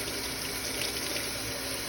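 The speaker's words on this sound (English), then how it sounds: "wash the fork again" Tap water running steadily over a fork being rinsed in a kitchen sink, a constant close splashing wash with no talk.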